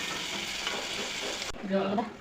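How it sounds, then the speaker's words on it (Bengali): Steady crackling sizzle of frying in hot oil before lentils for ridge gourd dal are added, loud and close, with a brief shift near the end as something is stirred or added. "ভাজা হয়ে গেল এখন ডালটা ছেড়ে দেবো"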